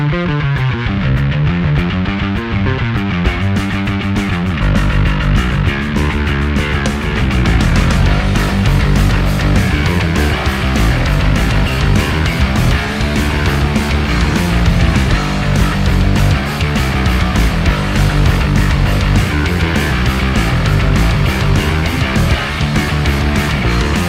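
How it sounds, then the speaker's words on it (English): A 2025 Rickenbacker bass guitar plays a continuous, punchy, loud line with growling, slightly driven tone and steady rhythmic notes. No voices are heard. "This is a 2025 Rickenbacker bass,"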